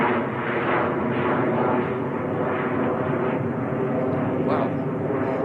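A plane making a steep departure from Manchester Airport, heard as a steady, loud broadband jet roar that fills the whole stretch without letting up.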